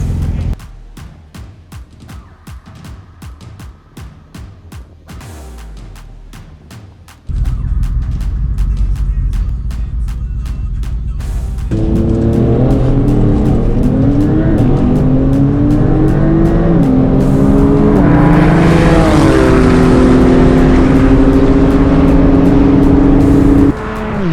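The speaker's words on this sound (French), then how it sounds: "Cette fois-ci, c'est la Porsche 911 Turbo à gauche et la Mercedes AMG GT-R à droite." A Porsche 911 Turbo and a Mercedes AMG GT-R in a half-mile drag race, engines idling and revving before a loud launch into a sustained roaring acceleration with rising gear-shift sweeps, close and powerful.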